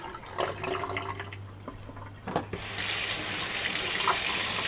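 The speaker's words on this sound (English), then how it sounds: "I have to rinse this out. Now we're going to wash this." Tap water runs into a sink while a container is rinsed and washed, a steady splashing flow that swells louder and brighter partway through, close by with no voices.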